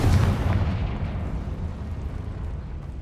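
A Confringo blasting spell from the Hogwarts Legacy video game detonates in a loud, booming explosion at the start, followed by a rumbling decay that lingers for several seconds with no talking.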